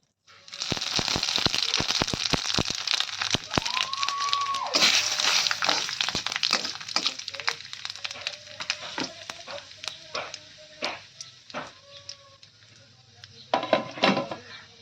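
Panch phoron whole spices crackle and sizzle in hot oil for a home-style fish, pumpkin and Malabar spinach dish, with sharp pops over a steady hiss and brief clinks of a pan, loud and close with no talking.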